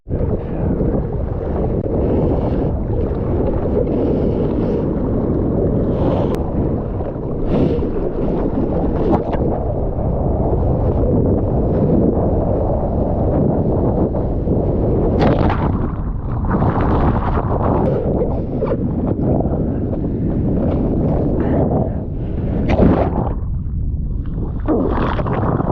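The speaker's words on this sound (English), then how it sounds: "Waves coming in." Ocean surf at Puerto Escondido during an opening swell, heard from out in the water as a continuous heavy rush of waves with strong wind buffeting across the mic and several surging swells rising and breaking throughout.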